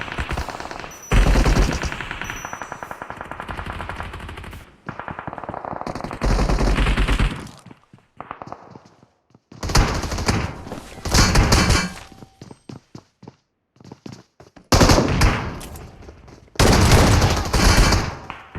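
Bursts of automatic gunfire from a PUBG Mobile match, loud and close, come in several separate volleys with short silent gaps between them and heavy thumping impacts mixed in.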